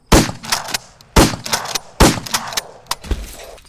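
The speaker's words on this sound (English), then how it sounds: "suddenly, Susie and Officer Blake drop dead from gunshot wounds" Several loud, sharp gunshots ring out in quick succession, with four main cracks spaced under a second apart and some smaller echoing bangs between them, close and alone without talk.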